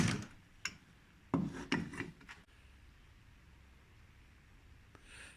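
Filing solder down during a repair, a few short rasping strokes near the start, then quiet with only faint background noise.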